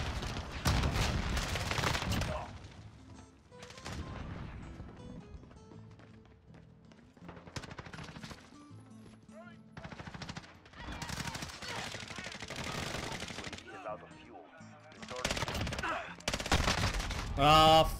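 Light machine gun fire in the video game Modern Warfare, with repeated long automatic bursts and scattered shots of varying loudness plus other game effects, continuing through most of the passage.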